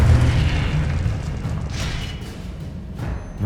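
An explosion spell from Hogwarts Legacy booms with a rumbling blast that rolls on and fades, and a couple of fainter bursts follow within a few seconds.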